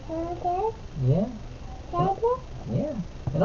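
A cat gives several short rising and falling meows at close range, some overlapping, in a room during a livestream.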